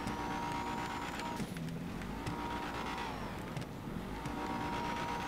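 Car drifting in GTA 5 Online on a custom drift track, a steady engine roar with tire squeal-like tonal sweeps, continuous and fairly loud with no talking.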